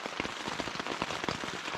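Steady rain drums on a hot tent pitched in the Adirondacks, a dense, even patter of many close drops with occasional sharper taps, continuous and moderately quiet with no voices.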